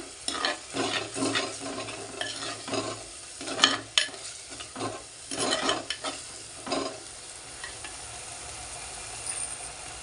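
Salt being stirred into green chilli paste in a clay cooking pot, with rough, repeated scraping strokes in uneven bursts over a low simmering sizzle, close and with no voices.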